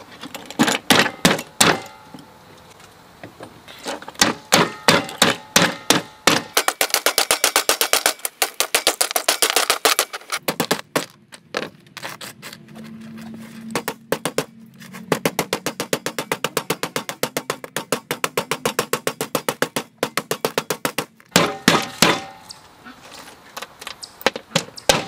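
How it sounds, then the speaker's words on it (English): A hammer strikes covered seashells to break them up. Rapid clusters of sharp, close taps come in bursts separated by brief pauses, with a lower continuous hum in the middle stretch and no talking. "the key thing is to cover the shells while you're hammering so they're not throwing pieces all over the place"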